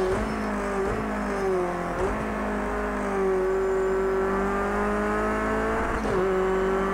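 A race car engine in the video game Project CARS 2 holds a steady high whine at speed, with brief dips around gear changes, loud and continuous without talk.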